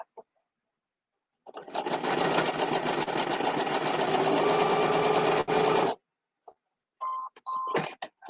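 A sewing machine stitches a quilt block in one steady, close run of about four seconds, then stops. Brief handling sounds follow.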